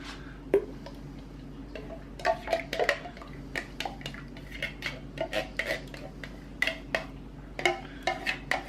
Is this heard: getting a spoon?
yes